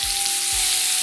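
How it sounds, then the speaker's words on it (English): Tofu sears in hot oil in a pan, a loud, close, unbroken sizzle with faint low thuds underneath. "I'm gonna let that sear for a couple minutes."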